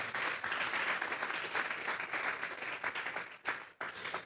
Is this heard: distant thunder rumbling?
no